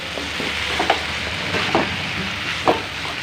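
Vegetable curry is stirred in a pan, a close continuous sizzle broken by three or four brief scraping strokes of the spoon at a loose, unhurried pace.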